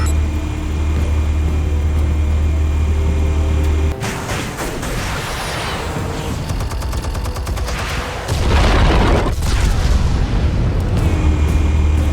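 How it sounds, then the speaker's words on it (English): Armed explosives detonate in the Batman The Telltale Series video game, a loud sustained rumble of blasts and crackling debris with a heavy low boom, alongside a continuous game soundtrack drone. "Explosives armed. Fire when ready."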